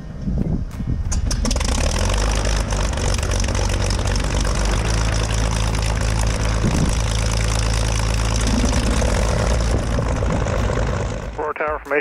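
A light aircraft's propeller engine idles before taxiing at an airfield with a control tower, a loud, steady drone that holds for several seconds and then cuts off abruptly, with voices present.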